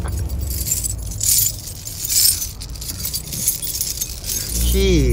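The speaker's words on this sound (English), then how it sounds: "when you have keys like me, and we've shown you these keys before, if I can bring them up." A bunch of keys jangles and clinks continuously up close, with metallic rattling bursts throughout and a brief rustle or handling thump at the end.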